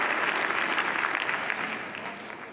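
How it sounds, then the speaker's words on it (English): Steady crowd applause fills a clay-court stadium after a fortunate net-cord shot in a men's quarter-final tennis match, a dense, sustained wash of clapping that eases slightly toward the end. "you can understand the applause from Thiem"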